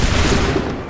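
A brief, loud musket volley crackles in Assassin's Creed 3, one dense burst of massed gunfire rolling off over a second with no voices.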